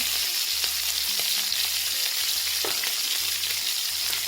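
Steak frying in butter with garlic in a de Buyer iron pan, a steady loud sizzle and crackle with a few sharper pops, close up and without talk.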